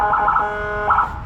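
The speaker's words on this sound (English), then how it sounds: "You got sirens on this truck, huh?" A tow truck's electronic siren blares close by in a repeating rising and falling wail, loud and harsh.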